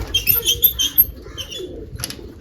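Pigeons flutter and flap their wings up close in a few quick bursts, with a short soft call near the end and no talking.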